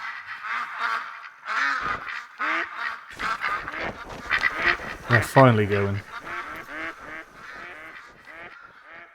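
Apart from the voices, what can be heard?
ducks quacking in a video game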